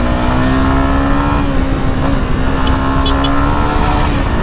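A Honda Sahara 300 motorcycle engine hums steadily at close range with a sustained, slightly rising drone, as if riding at a constant pace.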